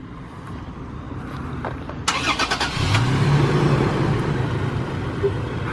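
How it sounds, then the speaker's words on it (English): A third-generation Toyota Tacoma pickup truck engine cranks and catches, then settles into a loud, steady idle close by, with faint voices in the background. "Did you just turn on the truck?"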